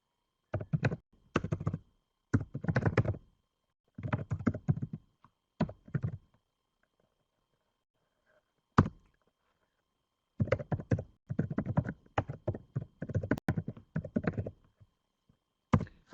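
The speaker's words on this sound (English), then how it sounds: "I might, for the sake of ease, just type it for you in the chat box" Bursts of typing on a computer keyboard as text is entered into a chat box, with quick irregular clusters of key taps separated by pauses, close and clear with no talking.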